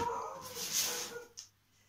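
A dog gives a brief whimpering whine indoors while knitting supplies are unpacked, the soft whine tapering into quiet near the end.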